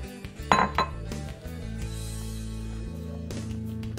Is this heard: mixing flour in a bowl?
yes